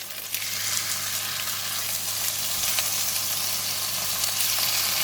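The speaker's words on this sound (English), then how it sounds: "So, and I'm going to put in the beef." Beef and kailan sizzle in a hot stir-fry pan, a loud, continuous crackling hiss heard up close with no voices.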